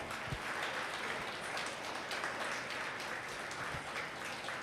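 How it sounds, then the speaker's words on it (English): Sustained applause fills a hall at a memorial oration and award ceremony as a token of appreciation is presented, a steady dense wash of many hands with no voices over it. "A big round of applause."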